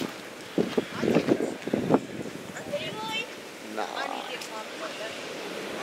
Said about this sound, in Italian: Vi giuro, c'è un vento incredibile.